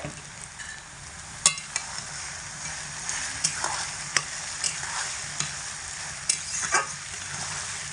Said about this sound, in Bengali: এবার কচুগুলোকে তেলের মধ্যে দিয়ে দিচ্ছি